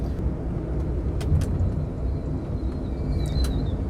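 A car engine hums steadily in second gear while the car is driving, a low, even rumble mixed with road noise from inside the cabin and a faint high whine. No one talks.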